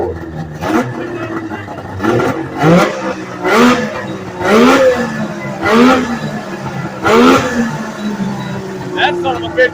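An old Polaris triple-cylinder snowmobile engine, left sitting for years, revs loudly in a series of sharp blips that rise and fall over an idle. A voice can be heard between the revs.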